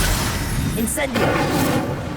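Incendio fire spell cast in Hogwarts Legacy, a brief whooshing burst about midway through a steady, noisy game soundscape, with a voice speaking over it.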